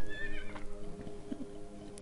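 A flying horse in the video game Rayman 2 gives a short, high, wavering neigh that fades out, clear and close, with no talk over it.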